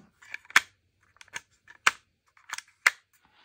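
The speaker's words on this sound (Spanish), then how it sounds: "tiene unos eh, mecanismos de clic muy potente. Creo que se escucha" Crisp clicking of a high-quality Rubik's cube mechanism being turned, about six sharp, close clicks spaced roughly half a second apart in a quiet room.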